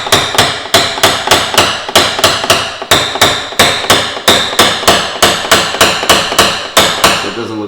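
Rapid, steady hammer blows ring out as a car fender dent is knocked down, dozens of loud metallic strikes in a fast even rhythm, close and with no talking.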